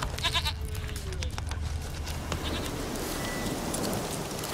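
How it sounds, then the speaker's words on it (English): A goat bleats in The Witcher 3 video game, with a few quick bleats near the start over a steady wash of rain-like ambient noise that continues to the end. "Here, goat."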